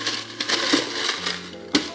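Ice cubes dropped into a highball glass for a Malibu Bay Breeze cocktail, giving a loud close rattle and clinking, with sharp cube impacts at intervals and a final bright clink near the end, no speech.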